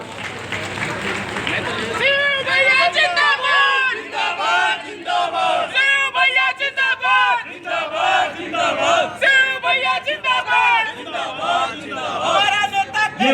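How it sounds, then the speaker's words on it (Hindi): Audience at a district Congress committee political stage event claps and cheers loudly as guests are invited onto the stage, with a voice speaking over a crowd that rises and falls in bursts. "ताली बजाएं आप लोग।"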